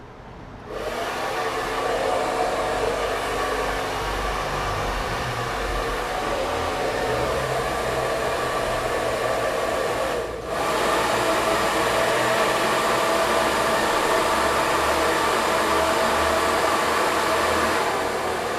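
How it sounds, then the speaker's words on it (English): A hair dryer blows in a steady, loud whir for the whole stretch, with a brief dip partway through, and no voices. "Now the hair dryer is cold now."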